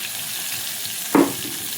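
Ground spice paste hitting hot oil with asafoetida and curry leaves for Maharashtrian dahi kadhi, giving a sudden brief sizzling burst over a faint background hiss.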